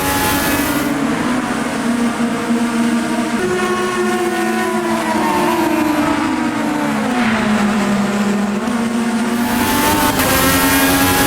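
An IndyCar race car in a video game roars loudly and continuously on an oval on old tires, its engine pitch sliding down as it shifts down to fifth gear, with no talking.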